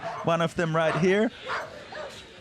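Dogs bark in a quick burst of several loud, close yips along an urban downhill mountain-bike course in Valparaíso, with someone speaking briefly afterward.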